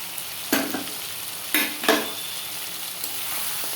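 Lentil fritters (bora) fry in oil in a pan with a low steady sizzle, punctuated by several distinct scraping stirs of a spatula against the metal; no talking.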